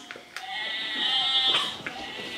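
A person imitating a sheep's bleat, a drawn-out wavering baa with a breathy onset, close and fairly loud, surrounded by brief vocal noises.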